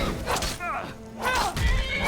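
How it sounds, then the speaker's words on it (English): A horse in a video game whinnies twice, bright rising neighs over a steady, busy game background, close and fairly loud. "And I left that poor horse there."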